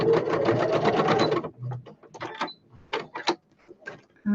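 A sewing machine running a straight stitch through fabric, a steady rapid mechanical whir lasting about a second and a half, then stopping; scattered clicks and faint handling noises follow.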